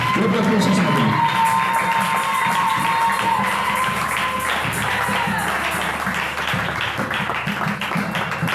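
A church congregation at a Sunday service cheers and acclaims together, a dense, sustained roar of voices with scattered clapping and shouts, loud and close, fading slightly toward the end.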